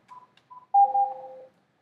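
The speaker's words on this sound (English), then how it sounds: "you can pick up the phone, dial this number, this phone will ring" Telephone keypad dialing tones on an NEC UX5000 office phone system during a test call: a few short beeps, then a longer, louder pair of steady tones, clear and close with no voices.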